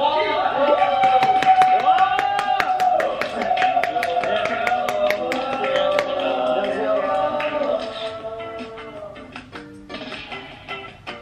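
A group in a flying yoga studio applauds their teacher with scattered, fast hand claps, with excited voices calling out over them. The claps thin out toward the end.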